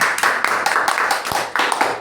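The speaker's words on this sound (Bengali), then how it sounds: "তাহলে সবার জন্য আবার একটু হাততালি হয়ে যাক।" A small group claps hands at a celebration, a few distinct close claps breaking into uneven bursts over about two seconds, with no talk over it.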